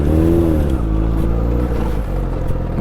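A motorcycle engine runs loud and close with a steady rumbling idle and a brief rev near the start, droning continuously without talk.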